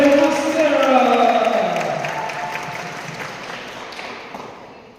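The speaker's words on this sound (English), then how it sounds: "it's going to go into a big round of applause" A big round of audience applause follows a slow clap, with a crowd cheering at first before the clapping and noise steadily fade away.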